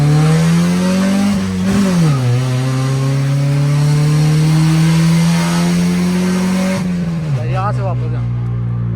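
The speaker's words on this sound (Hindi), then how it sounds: "अब इस गाड़ी का जो है ना हम सोलो रन ना आपको चेक कराने लगे हैं" A tuned Honda car on a track solo run, its engine loud and close, holding a steady droning pitch and then revving up and changing gear twice.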